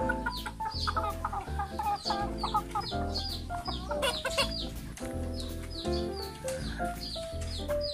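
A young Gray gamefowl cockerel clucks and chirps repeatedly nearby, with many close, quick, bright calls overlapping a few other chickens in a busy stretch with no talk.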